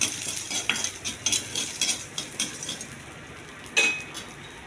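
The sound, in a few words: garlic and chana dal frying and stirred in a pan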